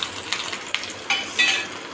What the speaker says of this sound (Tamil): தாளிக்க போகிறோம்மா. கடாயில் எண்ணெய் ஊற்றிருக்கேன்.